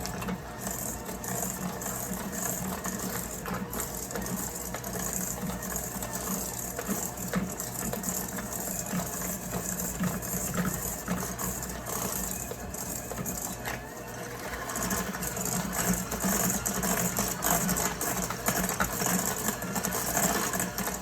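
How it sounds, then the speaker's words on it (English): Butter and sugar being stirred together for chocolate chip cookie dough: a continuous, steady, rough mechanical whirr that runs without a break for about twenty seconds and grows slightly louder near the end. "Now I'm going to stir."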